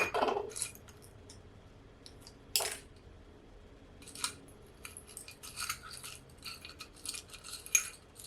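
Small items clink and rattle in a little bowl while someone searches for a sewing needle, quiet and close, in short irregular bursts separated by pauses.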